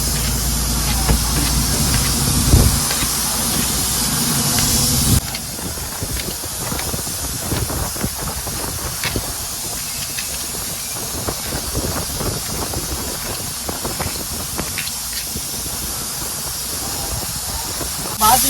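Steam hisses loudly from a pressure cooker whistle, a bright, sustained spray sound that drops to a steadier hiss with clattering kitchen noise, aboard a boat at sea at night.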